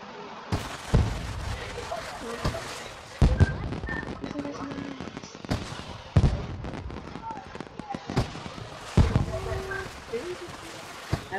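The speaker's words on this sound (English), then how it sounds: "Look at the fireworks, y'all." Fireworks pop in the video game Sugar Life during a Fourth of July show. Several booming bursts go off a few seconds apart, each trailing into crackles, amid faint background game sounds.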